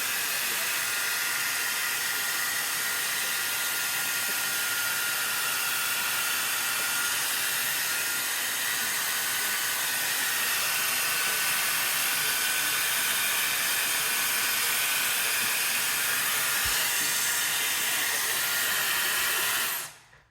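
A Vevor 8-in-1 hair styling tool blows hot air in a loud, steady broadband hiss that holds unchanged for about twenty seconds, then cuts off abruptly at the end.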